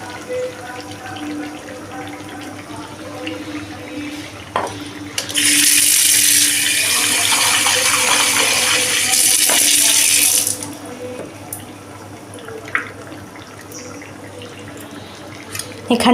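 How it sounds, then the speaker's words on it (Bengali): Tap water runs hard into a bowl as it is rinsed, a loud steady splashing burst lasting about five seconds amid quieter kitchen clatter while dum aloo cooks, before the water is poured into the pot. "এখানে এই বাটিটা ধুয়ে জলটা দিয়ে দিচ্ছি"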